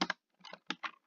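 A few quick bursts of computer keyboard typing, clustered keystrokes with short pauses between, close and fairly quiet with no talking.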